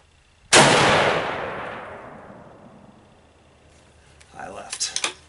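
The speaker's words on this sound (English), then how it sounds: "now we are going to go shoot for the 200 yard target" A single loud crack from a Savage Axis .308 rifle with a Leupold scope fires at a 200-yard target outdoors, its sharp report trailing into a long rolling echo before faint rustling follows.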